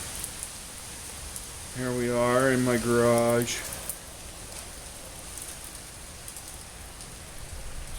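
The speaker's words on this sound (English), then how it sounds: "It's raining, a little windy." Steady rain falls outside the open doors of a garage on a slightly windy day, a soft even hiss throughout. A voice speaks briefly over it.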